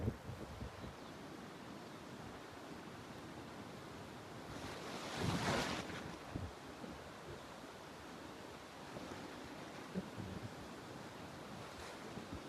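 The Pushpawati river rushes through the Valley of Flowers in the Himalayas, a steady broad roar of flowing water with wind buffeting the microphone and a louder gust midway, no talking.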